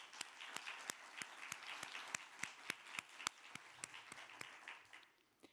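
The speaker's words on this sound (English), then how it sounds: "So I'd like to suggest a round of applause." Sparse, crisp applause from a modest audience at a national health research forum, honoring sponsors; individual claps stand out in a steady patter that thins and fades near the end, fairly distant and quiet.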